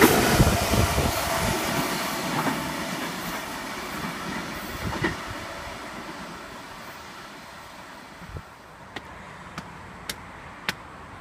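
A Sydney V-set passenger train rolls by, its loud rumble and clatter fading steadily as it moves away, leaving a few sharp clicks at the end.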